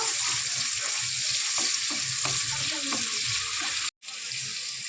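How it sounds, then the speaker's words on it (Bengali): Chopped onions sizzle in a pan of hot oil while being stirred until browned, making a steady frying hiss with repeated scraping strokes and a brief cut in the sound near the end. "নেড়ে চেড়ে দেবো এটা বাদামি লাল লাল করে ভেজে নেবো"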